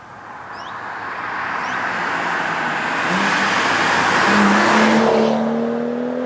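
A BMW 335i straight-six engine revs up, building into a loud, sustained roar with rising engine pitch that swells toward the end, heard alone without talk.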